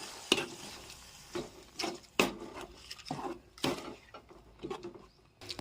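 A spoon stirs tomato puree into a pan of soya chunk curry, giving a series of scraping, sloshing strokes with short bursts and pauses, close and fairly quiet, no voices.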